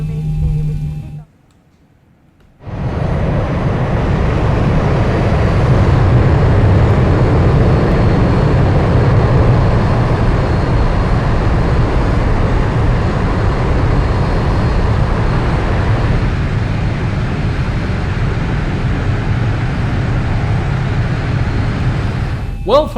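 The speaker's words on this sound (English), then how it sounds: "We'll be taxiing for the next few minutes," A Boeing 737 airliner taxis in the X-Plane 11 flight simulator game with a loud, steady engine drone that holds almost unbroken for about twenty seconds after a brief quiet gap near the start.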